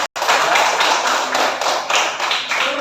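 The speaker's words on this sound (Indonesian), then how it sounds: "Tepuk tangan." A group applauding in a classroom setting, dense sustained clapping close by, continuous for a few seconds after a brief gap at the start.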